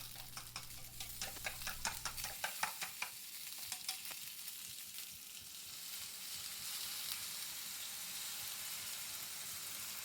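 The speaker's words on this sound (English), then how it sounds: "pour in the egg flour mixture and cover your pan with a lid" An egg and flour mixture hits a hot pan of frying gyoza dumplings. Sharp rhythmic crackles and spatters give way to a steady loud sizzle.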